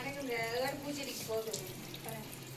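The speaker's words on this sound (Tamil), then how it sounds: "அப்படியே செடிக்கு பூரா தண்ணி போகுது." Water flows steadily from a tap or pipe onto potted plants such as tulsi and chrysanthemum at an outdoor garden spot, a continuous close splashing gush, with a voice faintly heard under it.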